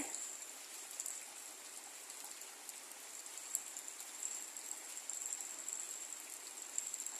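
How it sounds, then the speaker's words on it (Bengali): Morning rain falls in a village as a soft, continuous hiss of drops. It is faint and even throughout with no talk, and a few slightly louder drop ticks stand out. "গতকাল থেকে বৃষ্টি হচ্ছে, তা রাতে হয়নি, কিন্তু সকাল থেকে আবার শুরু হয়েছে।"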